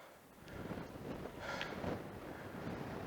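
Breezy wind gusting across a hot mountain summit cairn on the Nantlle Ridge in Wales, a steady low rushing buffet against the microphone that swells slightly partway through, with no voices.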